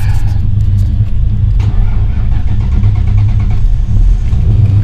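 An old car that has sat unused for a long time runs with a loud, steady low engine rumble, heard close up and alone with no talk.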